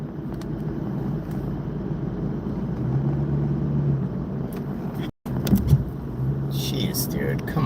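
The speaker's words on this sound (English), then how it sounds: "These fucking trucks." Trucks passing on a road, heard from inside a car as a steady low rumble that swells as heavy vehicles roll by, with a brief dropout and a louder pass near the end, and a voice talking at times.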